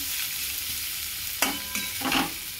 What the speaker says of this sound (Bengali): কুচনো পেঁয়াজ দেব। দিয়ে এটা ভালো করে নাড়াচাড়া করে নেব।